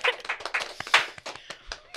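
A small studio audience at a talk show claps, a handful of sharp, uneven hand claps close by, scattered rather than a full roar, with some faint voices mixed in.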